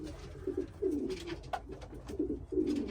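Shami and Adana pigeons coo nearby in soft, repeated, rolling calls that come in a steady series over a low background hum.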